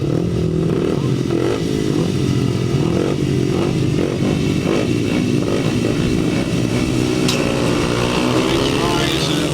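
Four grasstrack sidecar motorcycle outfits line up for a race, engines revving and burbling continuously at close range while a commentator talks over the noise.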